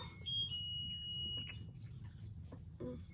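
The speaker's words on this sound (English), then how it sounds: "Let me turn off my timer." A kitchen timer beeps while pork shoulder lechon cooks in an air fryer oven: one steady, fairly clear high tone that holds for about a second, then stops, leaving quiet kitchen background.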